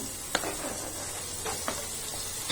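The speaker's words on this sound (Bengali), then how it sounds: "টমেটোটাকে এটার সঙ্গে একটু মশলার সঙ্গে একটু ফ্রাই করে নিচ্ছি" Quartered tomatoes frying with spices in a pan for a raw banana kofta curry, a steady soft sizzle with a few light clicks of stirring, close and quiet, no talk.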